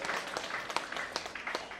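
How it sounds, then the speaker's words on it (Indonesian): A congregation applauds during a deacon ordination mass in a church, scattered clapping of moderate loudness with individual claps popping out, brief and fairly quiet in the hall. "marilah kita berikan tepuk tangan untuk dia."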